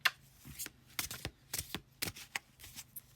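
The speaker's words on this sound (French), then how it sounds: "je peux pas tirer les cartes correctement" Tarot cards are shuffled and drawn up close, a quiet series of crisp papery riffles and snaps arriving in irregular bursts with no talk.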